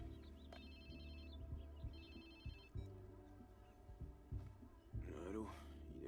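A telephone rings in the video game Watch Dogs 2, a faint repeating electronic trill under a low humming game soundtrack with soft thuds, with a voice briefly heard near the end.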